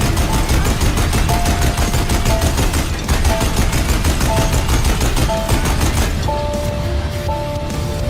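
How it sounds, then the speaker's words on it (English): Machine gun fire in the Horizon video game: a long, continuous stream of rapid, loud shots with no break, layered with faint sustained musical tones in the background. "So I took the machine gun and killed them all."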